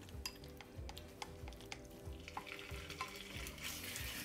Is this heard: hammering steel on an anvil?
no